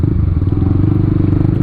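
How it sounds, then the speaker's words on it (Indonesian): Motorcycle fitted with a 3Tech Tridente F19 Thunderhawk racing exhaust idles close by, a loud, steady, throbbing low burble with rapid even pulses and no voices. "Bisa gitu kepikiran dia bikin satu knalpot tapi punya 3 suara gitu loh."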